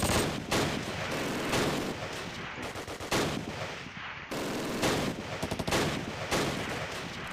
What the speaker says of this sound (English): as soon as their MGs start opening up, everyone starts dying